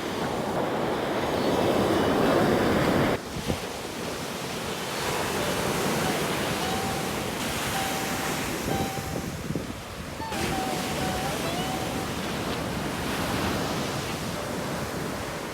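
Surf rolling onto the beach at ECR, Chennai, a steady broadband wash with a brief lull early on, continuous and fairly close, with faint tonal sounds drifting through in the background.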